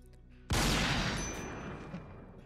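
A single sharp burst of gunfire in Rimworld cracks loudly near the start, then rolls off into a fading rumble and crackle.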